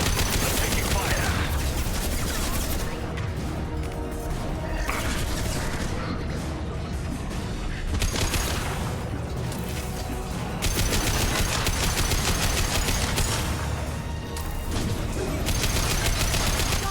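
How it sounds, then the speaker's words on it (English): Gunfire in Mass Effect Legendary Edition, a dense, loud, continuous barrage of automatic weapon fire and impacts that barely lets up, with brief shifts in intensity and a short voice line mixed in. "Taking fire."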